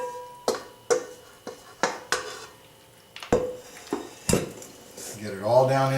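Chopped chili colorado meat pieces go back into a slow cooker pot, producing a series of sharp, close clunks and utensil knocks at a steady, uneven pace, followed by softer scraping and settling near the end.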